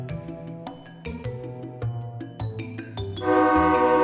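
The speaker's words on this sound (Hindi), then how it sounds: "ट्रेन ने हॉर्न मार दिया है।" A cartoon train horn blares in the Hindi animated story Rato Rat Chori, sounding as a loud, sustained tonal blast that swells at the end over a busy layered background, with no talking.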